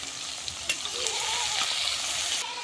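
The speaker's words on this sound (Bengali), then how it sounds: "তেজপাতা, সাদা এলাচ আর পেঁয়াজ। খুব সুন্দর করে আমরা ভাজে দেব।" Bay leaf, white cardamom and onion fry in hot oil. The sizzle is a bright, continuous crackle, close and steady, with occasional pops and stirring clatters, and nobody speaks over it.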